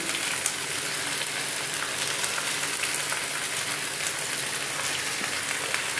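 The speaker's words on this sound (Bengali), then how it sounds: "কুমড়োটা আগে ভেজে নিচ্ছি কুমড়োটা আগে হালকা করে ভেজে তুলে নেব" Pumpkin pieces fry in hot oil in a pan with a little salt, making a dense, continuous sizzle and crackle like steady rain, close and even throughout with no talking.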